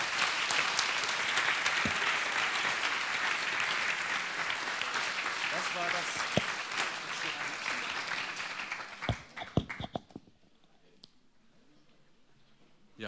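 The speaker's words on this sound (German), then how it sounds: "Vielen Dank an der Stelle und Applaus bitte nochmal." Audience applause at a university's 25th anniversary celebration in Eberswalde, steady and full for about nine seconds before tapering into scattered claps and near silence.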